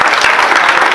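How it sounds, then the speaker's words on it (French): A crowd applauds at an African Integration Day cocktail reception, with dense, loud clapping that fills the moment from start to finish. "Applaudissez s'il vous plaît."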